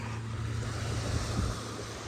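Ocean waves wash onto the beach at Honeymoon Island, Dunedin, Florida, a continuous rushing surf roar with steady wind noise over the microphone, no voices.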